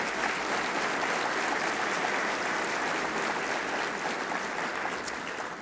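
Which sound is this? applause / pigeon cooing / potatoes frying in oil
applause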